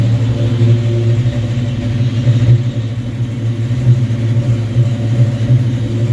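A 1986 Buick Grand National engine idles after its first start with a loud, steady low rumble and slight fluctuating pulses, close up with no talking.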